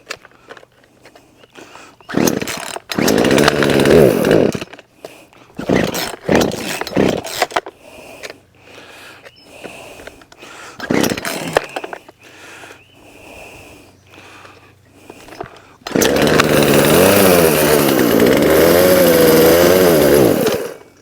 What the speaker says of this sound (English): I work harder trying to start the chainsaw than I do actually